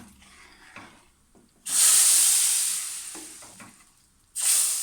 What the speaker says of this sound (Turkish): Evet şimdi çorbamı ilave ediyorum.